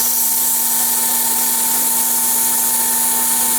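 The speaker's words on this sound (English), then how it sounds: "so now some sanding" A wood-turned lighthouse piece is sanded as it spins on a lathe, giving a continuous high, steady whine over a constant motor hum, close and uninterrupted.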